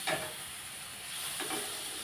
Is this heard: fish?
yes